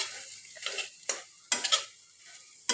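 Chopped onion, garlic and green chilli fry in a pan with three eggs, giving soft sizzling and a few sharp scrapes and clinks of a utensil against the pan in short bursts.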